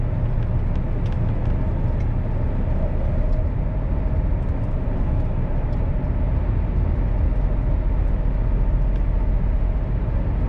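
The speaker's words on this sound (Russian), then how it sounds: "здесь железная дорога, вот, наверное, электричка проходит." An electric commuter train passes on a railway near a mountain road in an Austrian Alpine village, a dense continuous rumble heard from inside a moving car.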